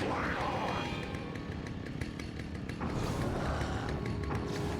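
A chainsaw in the video game Alan Wake buzzes loudly and continuously, its pitch rising and falling as it revs, accompanied by creaking mechanical noise.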